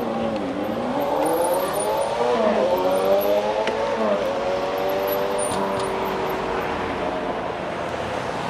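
Engine revving at a bike meet, a loud continuous motor note rising and falling in pitch, with repeated revs close by over crowd ambience.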